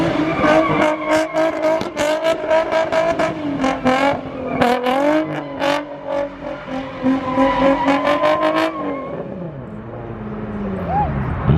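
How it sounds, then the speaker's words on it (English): A front-wheel-drive Subaru does a loud burnout as its tires squeal in long, wavering, repeated shrieks under the revving engine, close and continuous, fading at the end; voices can be heard in the background. "Front-wheel drive burnout day, apparently."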